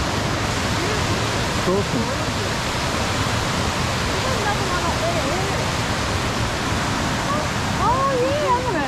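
The Ore River waterfall on Mt Buffalo in Victoria's high country in autumn, a steady broadband roar of falling water heard from a distance, constant throughout, with people briefly talking over it.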